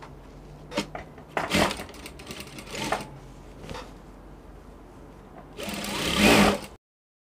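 Sewing machine stitching a zipper onto a half bubu dress, running in several separate bursts with short pauses between them and a longer, louder run of stitching near the end before it stops.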